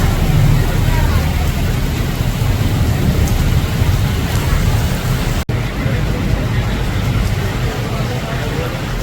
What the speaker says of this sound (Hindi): मदीना मुनव्वरा की बारिश